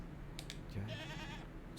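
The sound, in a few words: goat bleating in the video game Mundaun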